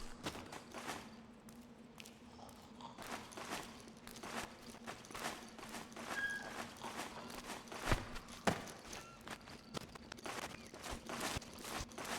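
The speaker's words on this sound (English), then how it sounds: "I hear footsteps." Footsteps in the video game Metal Gear Solid 4, a steady series of soft treads under a low ambient hum, with a couple of louder thumps near the end.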